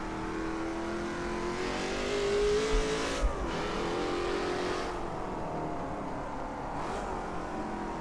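A Ford Can-Am race car in the Assetto Corsa racing game revs and shifts, its engine note climbing and dropping at moderate volume, with a couple of brief gear-change breaks and no talking.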